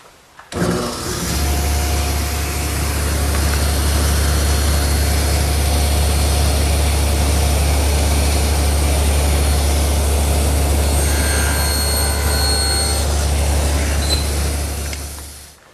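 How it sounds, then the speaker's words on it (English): A table saw nibbling away wood to cut a tenon for a Shaker wall clock rail; it spins up with a low, heavy hum and roars steadily for about fourteen seconds before winding down. "that material is best removed using the table saw, just nibbling it away"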